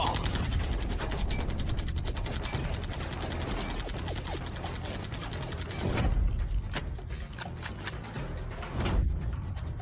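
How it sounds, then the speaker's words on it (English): Two guns jam at once in a dubbed Chinese anime fight, giving a dense run of close metallic clicking and ratcheting with sharper snaps near the end. "Why did both guns jam at the same time?"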